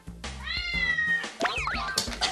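A cat answers a cat-language translator app with a few sharp, close meows, one long drawn-out call and then quicker, harsher yowls.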